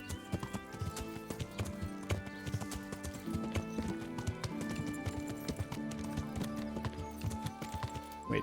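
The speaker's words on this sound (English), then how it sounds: "Horse." Horse hooves clip-clop in a steady trotting rhythm in a modded Morrowind video game, with a short whinny and other game sounds mixed in, fairly quiet and with no talk.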